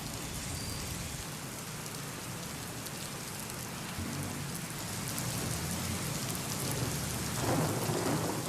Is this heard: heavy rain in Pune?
yes